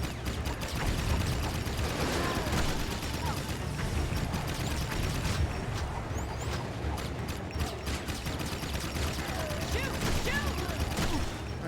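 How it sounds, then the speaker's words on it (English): Dense gunfire in Jak 3, rapid repeated shots and mechanical clatter piling into a continuous barrage, mid-distance and busy, with faint talk mixed underneath. "I am shooting"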